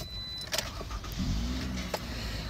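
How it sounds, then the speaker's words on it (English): A 2017 Toyota RAV4 XLE with front-wheel drive starts up from inside the cabin: a brief starter crank, then the engine catches and settles into a steady, close idle hum, with no voices. "start up this beautiful vehicle"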